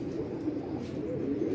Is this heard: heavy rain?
no